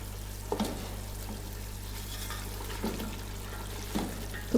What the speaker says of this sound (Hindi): चलाते हुए भून लेना है।